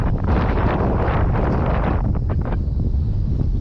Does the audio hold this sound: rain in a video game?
no